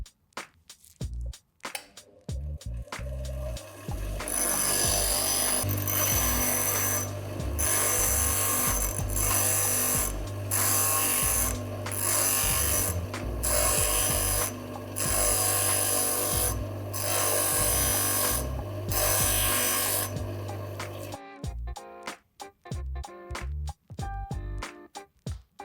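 Tungsten TIG welding electrode sharpened against a grinder, a loud continuous abrasive grinding that runs in repeated strokes for most of the stretch, framed by quieter clicks and handling at the start and end.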